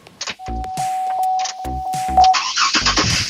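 A car whose coolant had been freezing up cranks in a few short bursts under a steady electronic tone, then catches and settles into a loud, even idle nearby.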